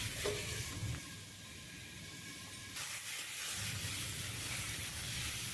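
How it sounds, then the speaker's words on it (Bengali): Potatoes frying in a pan with salt and turmeric give a steady, close sizzling hiss that softens for a moment midway, then swells again and holds to the end. "আগে থেকে আলু কেটে রেখেছিলাম সেই আলুগুলো ভেজে নিচ্ছি"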